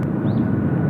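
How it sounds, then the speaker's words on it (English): A loud, steady roar comes from an Asiana jet engine at Incheon Airport, a broad rumbling wash for about a second with no talk. "Those beautiful sounds there, not coming from the aircraft on screen. They're coming from the Star Alliance Asiana"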